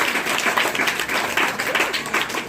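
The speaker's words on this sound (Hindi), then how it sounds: "एक बार कृपा शंकर जी के लिए ताली बजाएं।" An audience at a Constitution Day school function in Rajasthan claps steadily, a dense burst of applause lasting a couple of seconds without pause.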